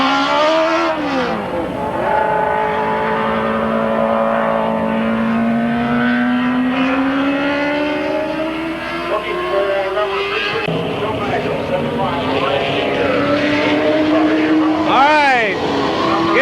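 Super Late Model race cars at Midvale Speedway, loud engines droning and sweeping in pitch as they circle the track, with a swooping pass near the end and a voice talking over the noise.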